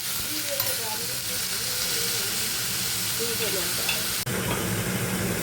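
Gravy base for a bitter gourd peel kofta curry frying steadily in a pan, a continuous sizzle and hiss with faint scraping of stirring throughout.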